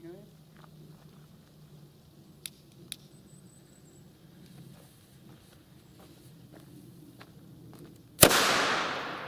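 Quiet outdoor background with faint movement, then a single sharp, very loud salute firecracker bang, measured at 107.3 dB, that rings out and decays slowly.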